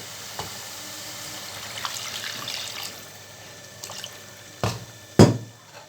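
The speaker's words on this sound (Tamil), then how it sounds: "நம்ம ரைஸ்க்கு எவ்வளோ தண்ணி வேணுமோ அந்த அளவுக்கு நம்ம தண்ணி இதில் சேர்த்துக்கலாம்" Water splashes and trickles into a tomato mixture for rice cooking in a pan, a soft running pour with a few sharper splashes and clanks near the end, no speech.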